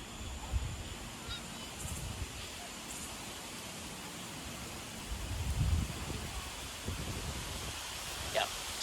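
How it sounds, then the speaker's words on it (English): Steady broadband wind noise rushes outdoors, gusting stronger at moments, with faint distant sounds in the background. "The wind's starting to pick up, which is actually good because it's so humid and hot right now."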